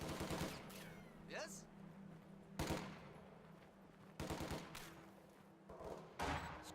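Submachine gun fire in a Company of Heroes 2 match as assault grenadiers clash with conscripts, several short rattling bursts spaced apart with quiet gaps and a faint whine between them.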